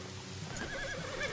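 Horses whinny and neigh in a few rising and falling calls amid a faint rustle of movement, moderately close, with no voices.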